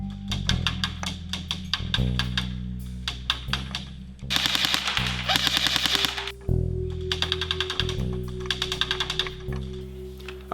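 A KWA SR7 airsoft electric gun (AEG) fires several loud, close bursts of rapid full-auto shots separated by short pauses, each volley a dense rattling string of cracks.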